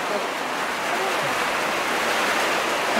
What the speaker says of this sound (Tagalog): Maingay po, pasensya na naulan